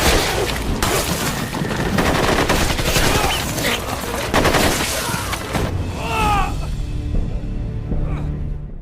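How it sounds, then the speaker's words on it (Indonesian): Sustained exchange of gunfire in a film battle between US sniper teams and Afghan fighters, dense overlapping shots and bursts close and loud, easing into a quieter tail near the end. "Baku tembak pun terjadi."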